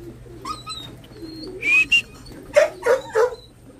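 Pigeon sounds at a racing loft under the roof during a fun race: soft cooing and short wingy bursts, with several brief loud calls near the end, fairly close and with no speech.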